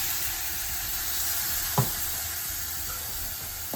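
Snake gourd frying in a pan hisses with a steady, close sizzle after a spoonful of hot water goes in, with one brief clink partway through and no talking.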